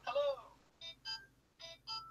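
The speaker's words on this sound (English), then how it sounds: "It's the ringtone I use for WhatsApp on my phone." WhatsApp message ringtone playing on a phone: a short sweeping chime followed by four bright, toy-like electronic beeps in a quick uneven pattern, close and fairly quiet.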